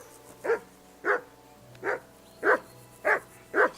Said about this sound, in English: It's the dog barking.